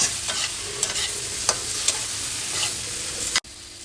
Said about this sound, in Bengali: এটাকেও হালকা একটু নেড়ে চেড়ে নেবো